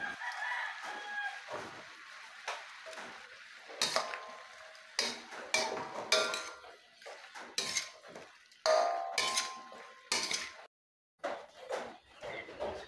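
A utensil scrapes and clinks against a pan in irregular bursts while chop suey with chicken liver, chicken and shrimp is stirred, with a rooster crowing in the background and brief quiet gaps.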